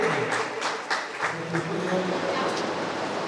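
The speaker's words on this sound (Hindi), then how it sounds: "तालियां बजती रहेंगी" Applause from an audience at a retirement ceremony, a dense patter of clapping that holds steady, with some voices underneath.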